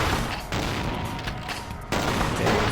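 Dense, sustained gunfire from the vampire role-playing game Vampire: The Masquerade – Bloodlines, a loud continuous barrage of shots with no voices over it.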